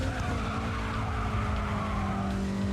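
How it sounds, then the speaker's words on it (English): A BMW drifts in GRID 2 with a steady, loud tire squeal layered over a sustained engine roar, continuous throughout. "this BMW can actually drift"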